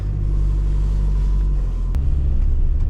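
A car drives along on the way to another fishing spot in spring, heard from inside as a loud, steady low engine rumble and road drone, with a brief thump partway through and no talking.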